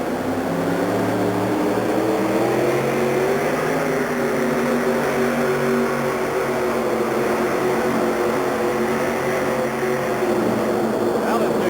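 A supercharged Chevrolet truck runs in a truck pull inside a stadium. Its engine gives a loud, continuous, droning roar whose pitch rises and falls as it works under load.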